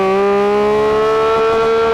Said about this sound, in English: Let's have a listen to this engine.